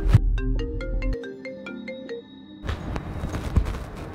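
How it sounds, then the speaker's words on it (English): A phone ringtone plays a bright repeating melodic pattern for about a second and a half, clear and close, before the tune fades and background noise returns. "Now who's calling my phone?"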